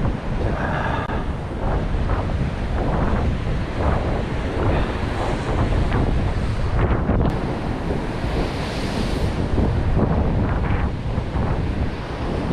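Ocean waves surge and wash against the base of a Sydney sea cliff, a continuous loud roar of surf with gusting wind buffeting the microphone throughout.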